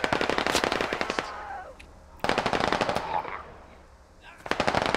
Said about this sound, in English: Bison and Londarts trade bullets here